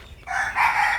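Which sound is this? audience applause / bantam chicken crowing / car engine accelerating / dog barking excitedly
bantam chicken crowing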